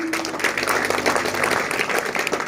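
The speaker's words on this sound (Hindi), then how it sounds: "जोरदार ताली" Guests at a wedding ceremony in India give hearty applause as someone is honoured, a brief burst of crowd clapping over a faint steady hum.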